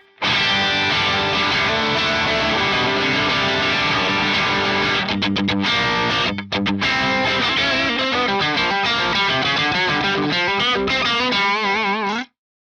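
Heavily distorted electric guitar through an Axe-Fx III amp modeler with a 4x12 recto cabinet, playing loud, sustained chords and riffs with a thick, boosted low end, continuous for about twelve seconds before cutting off abruptly.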